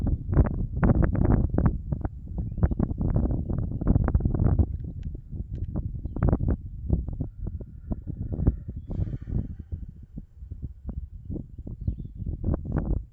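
Strong outdoor wind buffets the microphone in a steady, heavy roar with gusty surges, loud and close, with no voices.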